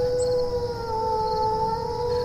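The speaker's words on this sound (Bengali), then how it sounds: "চারিদিক থেকে শুধু কুকুরের কান্নার আওয়াজ।" Several dogs howl together at night in a still village, long sustained wailing tones holding steady and loud throughout, with no other sounds.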